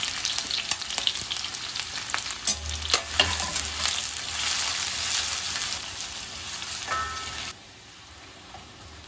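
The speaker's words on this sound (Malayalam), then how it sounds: "ഇതിൽ കുറച്ച് ഓയിലും കൂടെ ഒഴിച്ചു കൊടുത്തിട്ട് നമുക്ക് ഈ ഉള്ളി ഒന്ന് ഫ്രൈ ചെയ്തെടുക്കണം" Onion slices fry loudly in oil with a constant crackling sizzle and bursts of stirring, then the sizzle drops abruptly near the end.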